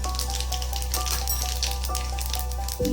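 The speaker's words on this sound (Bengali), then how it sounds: "এবার এই তেলের মধ্যে ছোট চামচের এক চামচ মৌরি দিয়ে দেবো আর হাফ চামচ জিরে" Fennel seeds and cumin sizzle steadily in hot oil for a vegetarian paneer masala, a close, continuous crackling hiss over a low hum that barely changes before a brief dip at the very end.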